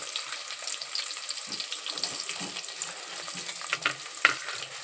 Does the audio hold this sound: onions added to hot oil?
yes